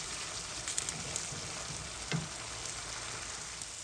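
Masala for an eggplant and yogurt curry, cooked in a couple of tablespoons of oil with lemon juice, fries steadily in a pan, giving a soft even crackle throughout with a few sharper pops and no talk.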